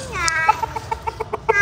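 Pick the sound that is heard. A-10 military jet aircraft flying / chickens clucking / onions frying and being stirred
chickens clucking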